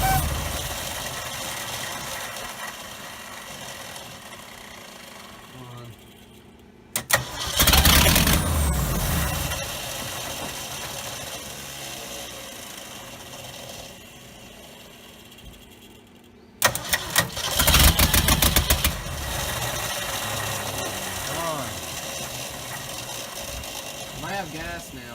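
A 1969 Ford F250 truck, unstarted for 11 years, is cranked twice, each attempt a loud burst of churning engine noise lasting a few seconds over a steady background hum, with voices talking faintly.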